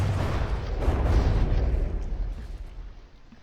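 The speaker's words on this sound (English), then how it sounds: "now it's just a cloud and almost constant barrage" Dense, continuous barrage of shell explosions in the naval combat game From the Depths, a rumbling wall of overlapping booms that stays loud before tapering off slightly.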